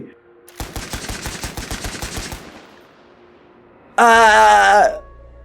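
A loud, rapid burst of M16 automatic rifle fire rattles for about two seconds, fades out, then a harsh, strained cry rings out.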